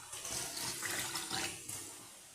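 Samai (little millet) rice being washed and drained in water, with a steady rush of water and sloshing throughout, louder in the middle and easing off near the end.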